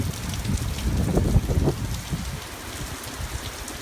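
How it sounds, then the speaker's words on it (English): Heavy rain from Hurricane Matthew making landfall near McClellanville, a close, dense patter of drops beating on surfaces with gusts swelling and easing. "The rain has been insistent like this pretty much all morning."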